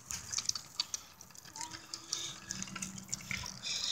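Water runs and splashes while a foot is washed outdoors, a fairly faint, uneven pouring and dripping under steady background noise.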